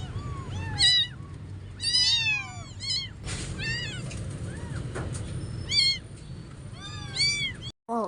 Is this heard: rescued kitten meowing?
yes